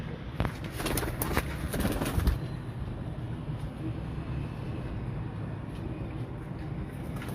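Pigeons cooing on a rooftop loft of breeder pigeons, soft low coos beneath a steady background hum, with someone talking nearby at times.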